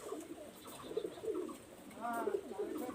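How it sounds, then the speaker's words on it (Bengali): Kamagar pigeons, a male and a female, giving soft, repeated cooing calls close by in a quiet setting, with a few short coos in a row. "এখানে আমি এক জায়গায় কামাগার কবুতর দেখাচ্ছি"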